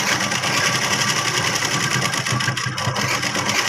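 A sewing machine runs continuously while stitching chudidar pants from two metres of fabric, a close, evenly pulsing mechanical hum with no speech over it.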